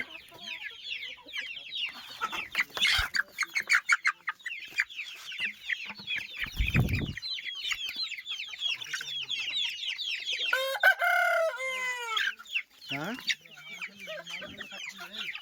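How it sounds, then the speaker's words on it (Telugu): Several chickens cluck and chatter continuously nearby, with busy overlapping calls, a few sharper squawks and occasional thumps and rustling. "ఈ నా కాళ్ళలోనే తిరిగేస్తున్నాయి కోళ్ళు"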